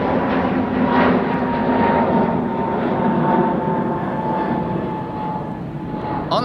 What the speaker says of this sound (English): A321neo from KLM.